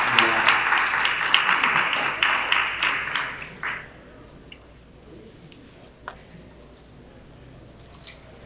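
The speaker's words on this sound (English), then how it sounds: "Let's get a big round of applause here for Rahul from John and Aztec" An audience at a panel on ZKP crypto technology applauds loudly for about three and a half seconds, then the clapping trails off into quiet room noise with a few scattered taps.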